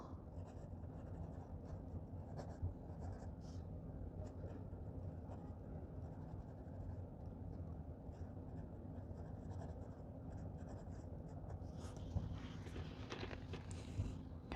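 Pen nib writing on thin Tomoe River paper, a soft continuous scratching close up with steady low background hum, a few faint taps near the end.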